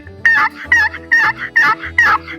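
A wooden box call imitates a turkey, giving five evenly spaced, raspy yelps in a steady rhythm, loud and close with no talking.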